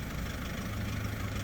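A SsangYong Rodius 2.0 e-XDi diesel engine running steadily, a continuous broadband drone with a low rumbling hum, fairly near and constant throughout with no speech.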